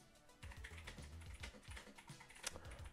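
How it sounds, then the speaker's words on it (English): Loud computer keyboard being typed on at close range, a quick irregular run of clacking keystrokes with sharp individual taps, heard alone without speech. "your keyboard is loud"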